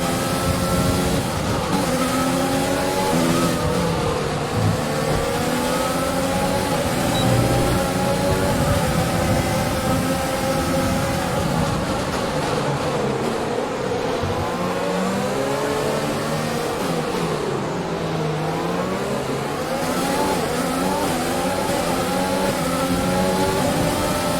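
Formula 1 car racing in the F1 2020 video game on the Singapore circuit, a loud continuous high-pitched engine scream rising and falling through gear changes and revs for the whole stretch.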